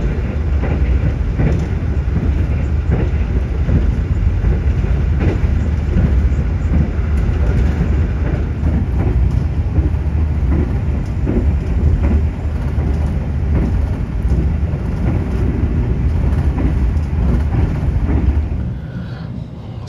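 Progo passenger train rolling in toward Cirebon Prujakan station in Indonesia, a loud, steady low rumble of wheels and carriage noise with faint clatter throughout, easing slightly at the very end.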